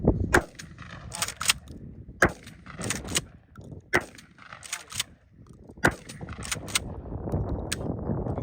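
A KelTec KSG bullpup 12-gauge shotgun fires a string of loud, sharp blasts, roughly ten reports at irregular intervals over a steady outdoor rumble, with no talking.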